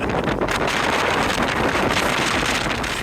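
Strong, gusty wind on Shell Island buffets the microphone with a continuous, loud roar that barely lets up, with no voices heard.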